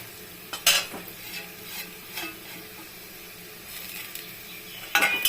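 Spices and poppy seeds stir and fry in oil in a pan while cooking drumstick flower paste, with a low sizzle under scattered scrapes and clinks of a spoon against metal.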